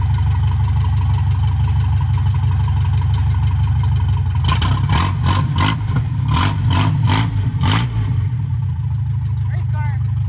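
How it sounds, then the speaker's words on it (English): A Ford Anglia car with a swapped engine idles steadily at close range, then revs hard several times in a row before settling back to a low rumble. People talk in the background throughout. "Race car."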